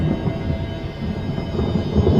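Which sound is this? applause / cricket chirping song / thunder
thunder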